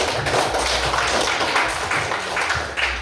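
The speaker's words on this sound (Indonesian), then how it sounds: "kita beri aplaus dulu" Classroom applause from students, a dense continuous patter of many hands clapping at close range with steady loudness for about three seconds.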